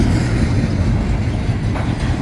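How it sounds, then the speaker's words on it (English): Train cars rumble past on the rails in a desert ghost town near the Arizona border, a loud, close, steady low roar with a faint wheel clatter throughout. "Here's the back end of the train."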